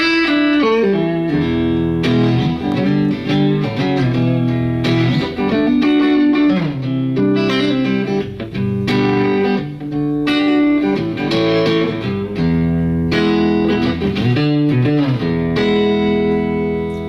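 Clean Taylor electric guitar on the neck pickup with a bright, chiming tone, playing ringing chords and melodic lines alone, steady and fairly loud with light shimmer.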